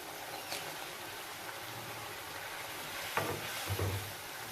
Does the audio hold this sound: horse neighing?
no